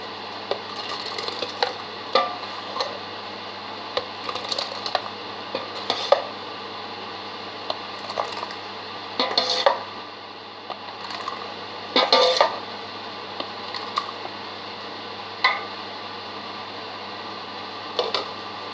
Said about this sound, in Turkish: Şöyle çok rahat bir şekilde hemen kavanozlarımı dolduracağım.